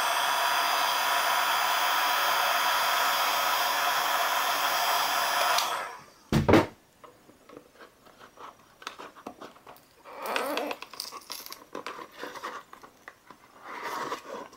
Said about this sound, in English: you can hear the adhesive separating from the housing and digitizer